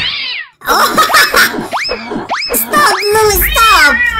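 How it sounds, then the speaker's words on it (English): An angry cat yowls and meows loudly again and again in drawn-out, rising and falling cries, close up, with a voice and other voices talking over parts of it. "it's angry cat."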